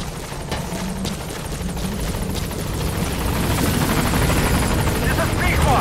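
Helicopter rotor noise in Metal Gear Solid V as the support chopper comes in to the landing zone, a steady dense thrum that grows louder and nearer over the clip, with a radio voice talking over it.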